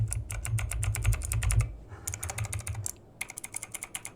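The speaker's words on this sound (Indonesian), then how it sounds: "Di sini gua menggunakan Blue Switch yang lumayan agak berisik dan kita akan tes apakah bocor suaranya." Clicky typing on a mechanical keyboard with blue switches, close and crisp, coming in rapid bursts of keystrokes with a brief pause between runs.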